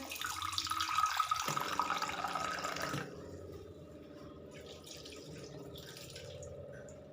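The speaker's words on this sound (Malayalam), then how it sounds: "വെള്ളം ഒഴിച്ചു കൊടുക്കാം" Tap water runs into a cooking pot in a home kitchen, a loud filling stream for about three seconds that then drops to a quieter trickle and drip, with no speech.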